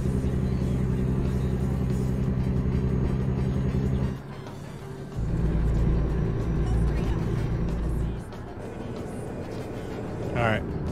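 A heavy truck in American Truck Simulator drives with a steady, loud low engine drone that dips and returns as the revs shift, while someone talks over it.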